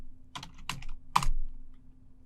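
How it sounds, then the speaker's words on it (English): Three distinct keystrokes on a computer keyboard, evenly spaced and crisp in a quiet room, typing a short terminal command. "in the listener window, type in pwd"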